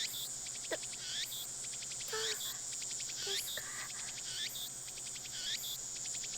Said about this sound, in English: The only sound is the chirping of the cicadas.